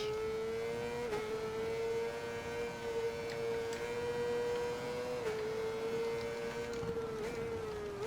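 A modified Honda CBR 600 RR sport motorcycle idles high and revs through its exhaust, a steady loud droning tone with brief dips and blips, close and continuous.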